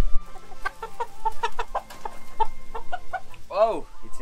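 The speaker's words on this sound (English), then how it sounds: "let me go catch a chicken" A Kukuk chicken, a pure South African breed, clucks in quick, repeated bursts as it is caught, then gives a louder drawn-out squawk near the end, close by.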